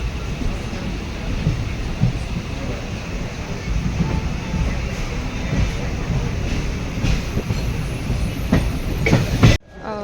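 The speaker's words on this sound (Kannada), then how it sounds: "ಫಸ್ಟ್ ಟ್ರೈನಲ್ಲಿ ನಾವೀಗ ಹೋಗ್ತಾ ಇದ್ದೇನೆ" A steady, loud rumble and rattle fill the inside of a moving passenger train headed toward Payangadi railway station. The noise runs continuously and close, then cuts off abruptly near the end.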